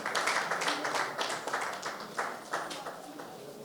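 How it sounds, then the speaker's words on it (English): Audience clapping at an application suite launch event, a steady wash of many hands with a few louder bursts, moderately distant and sustained throughout. "Can we keep the applause going?"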